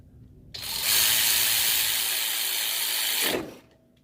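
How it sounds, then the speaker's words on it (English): Ratchet cranking down 14 mm bolts on the brakes of a Toyota Matrix, a steady close clicking run of about three seconds, alone. "All right, crank these down, 14."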